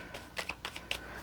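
Tarot cards are shuffled in a quiet room, a brief run of soft riffling flicks and taps.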